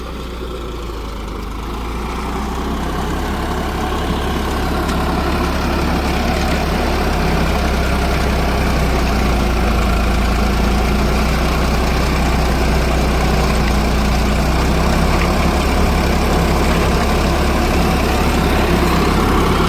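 A diesel tractor engine idles steadily and loudly nearby, a deep continuous rumble that swells slightly in the first seconds and then holds even throughout.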